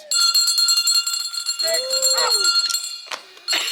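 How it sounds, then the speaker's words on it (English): A hand bell rings loudly and repeatedly at a colonial Williamsburg Christmas procession start, bright sustained clangs with lingering overtones, while a voice speaks over the ringing. "Thus, by the ringing of my bell, the procession begins."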